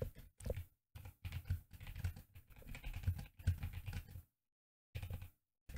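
Notes typed on a computer keyboard while editing a Shopify store's settings, heard as quick bursts of close, soft key clicks with short pauses between runs and a longer gap near the end.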